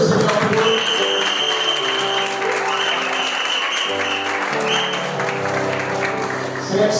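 A church congregation gathered for a civil wedding celebration claps steadily and loudly for the full stretch, with sustained music playing beneath the dense, unbroken applause.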